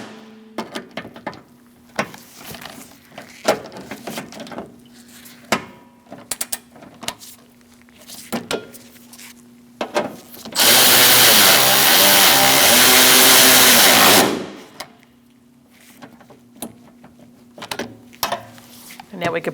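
A 10mm ratchet tightens bolts on the AC condenser of a 2002-2006 Toyota Camry 2.4, with repeated quick clicking bursts up close and a loud, steady mechanical whir in the middle.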